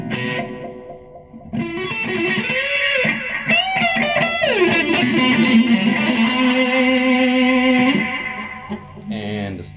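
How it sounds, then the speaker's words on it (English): Electric guitar played through a Line 6 Floor Pod multi-effects unit set to a sweep echo modulated delay: loud sustained notes and bends with wavering, repeating echoes that swell and then fade out near the end. "That's a sweep echo modulated delay."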